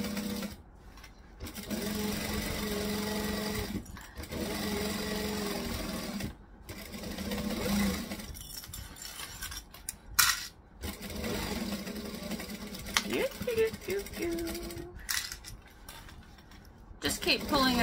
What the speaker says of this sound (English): We're gonna stitch and we're gonna backstitch.